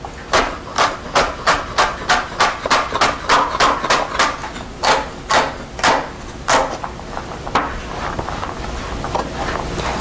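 Knife chopping an onion coarsely on a cutting board for home-made beef stew: a quick series of about sixteen sharp, evenly spaced chops that slow and thin out toward the end.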